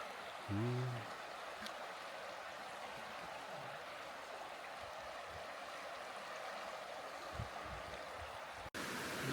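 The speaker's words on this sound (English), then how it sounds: "Love the sound of that water." Steady broadband rush of flowing stream water on the Appalachian Trail fills the whole clip, with a brief low tonal sound near the start and a few soft knocks.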